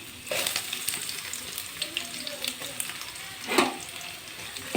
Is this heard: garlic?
yes